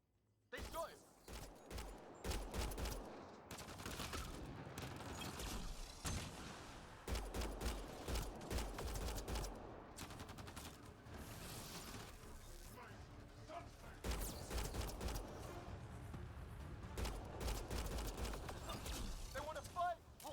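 Gunfire erupts in the video game Mass Effect: Andromeda, loud bursts of rapid shots in repeated volleys with mechanical clatter between them, while voices talk over the fighting.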